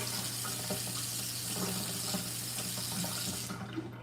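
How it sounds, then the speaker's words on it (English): Tap water pours steadily into a cup or onto a potted mint plant indoors, a close continuous splashing stream that cuts off near the end. "I want to add a little water to it."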